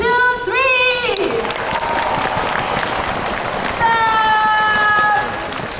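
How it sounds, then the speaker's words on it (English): An audience at the High Flyers Show at Jurong Bird Park claps and stomps as loud as it can, a dense and loud roar of noise, with shouted voices rising above it at the start and again near the end. "clap your hands, stomp your feet as loud as you can to make some noise"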